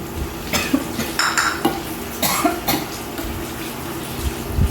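Chilies go into a chicken green curry stir-fry in a pan, with clattering utensil strikes and scraping against the pan, several sharp knocks over a steady sizzling background.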